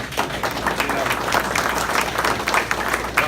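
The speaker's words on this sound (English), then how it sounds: "Y'all need to give him a round of applause." Town hall audience applauding, a dense burst of clapping from a room full of people, loud and sustained with some crowd voices mixed in.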